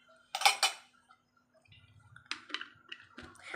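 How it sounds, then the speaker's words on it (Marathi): A spoon stirring a Rooh Afza milkshake in a glass, with a few sharp clinks of metal against glass followed by softer scraping and tapping, close and alone. "तर ही मी मिक्सिंगची प्रोसेस चालूच ठेवणार आहे जोपर्यंत हे नीट होत नाही"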